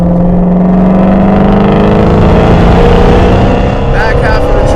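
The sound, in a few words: Shelby GT350 Mustang (HPE850) engine accelerating through gears on track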